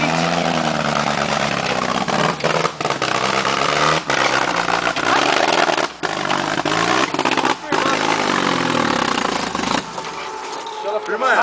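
Several motorcycle engines rev, rising and falling in pitch, loud and close, with people talking over the rumble throughout.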